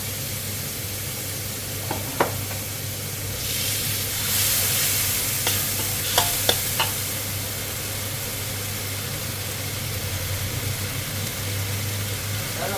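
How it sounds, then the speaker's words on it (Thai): Straw mushrooms and squid stir-fry in a wok with a loud, continuous sizzle. Occasional scraping and clinking of the spatula rises over the hiss. No voices are heard. "เห็ดฟางใส่ไปเลยนะคะ แล้วก็ผัดก่อนค่ะ"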